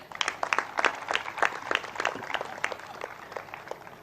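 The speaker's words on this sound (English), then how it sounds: "A big round of applause to all of them" Applause from a convocation audience at MICA, a steady patter of many hands clapping at moderate distance across the hall, fairly even throughout.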